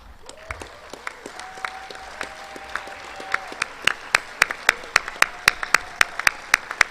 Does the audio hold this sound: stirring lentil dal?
no